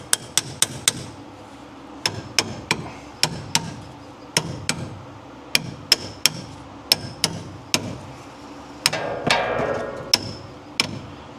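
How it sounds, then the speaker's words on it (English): A hammer strikes a car part in a string of sharp metallic blows, some in quick bursts and others spaced apart, close and fairly loud, with a brief scraping sound near the end. "I don't want to hammer this too heavy"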